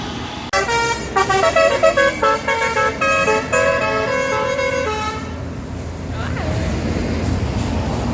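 A telolet basuri musical bus horn plays a bright, tuned melody of rapid repeated notes for about five seconds, loud and close, then fades out while engine rumble and crowd noise continue on a road near a tunnel.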